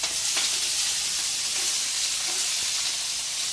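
Potatoes and apples fry in a little olive oil in a skillet, producing a loud, constant, close-up sizzle and hiss with faint stirring underneath and no voices.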